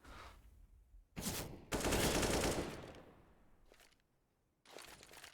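Rapid automatic gunfire in the shooter game Apex Legends, a few loud sharp bursts separated by short quiet gaps, heard alone.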